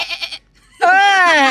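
A person imitates a sheep's bleat, a clear wavering voiced "baa" held for most of a second after a short burst of other voice sounds and a brief pause.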